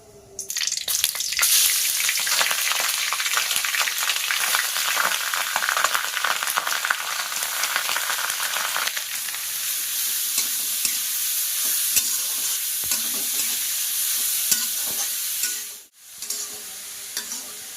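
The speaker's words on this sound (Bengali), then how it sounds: "এবারে দিয়ে দেবো গ্রেট করে রাখা বিট আর গাজর" Grated beetroot and carrot fry loudly in a hot pan with dried chillies, a steady dense sizzle with stirring scrapes throughout, dipping to near silence briefly near the end before resuming.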